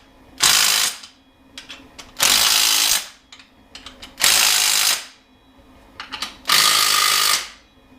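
Ratchet wrench tightening intake manifold bolts during an LS engine swap into a 1988 Chevrolet Suburban, heard as four loud, close bursts of rapid clicking separated by short pauses, with no talk.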